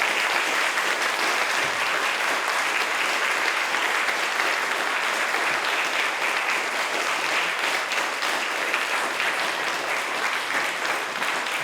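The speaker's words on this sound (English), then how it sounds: "can we get a big round of applause for our candidates?" An audience at a climate action candidates night gives the election candidates a big round of applause, dense sustained clapping that stays loud and even throughout without a break.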